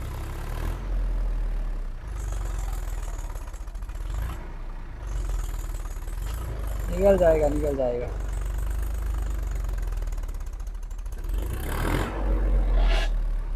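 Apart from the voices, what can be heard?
Massey tractor engine straining in power test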